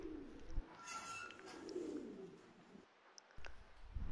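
Fancy pigeons coo softly in a loft where birds are kept for sale, with low throaty murmurs rising and falling, brief rustles and wing movements, and a short quiet gap before the sounds return.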